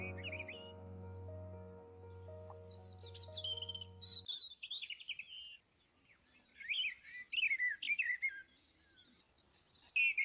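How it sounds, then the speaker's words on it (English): Birds sing in a quiet outdoor space, with bright chirps and whistled phrases coming in bursts after a sustained musical drone fades out, fairly close and clear with no talking. "Now take the sound of the birds."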